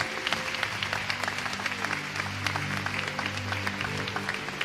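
A church congregation applauds steadily throughout, many hands clapping in a dense, sustained patter with a low musical hum underneath.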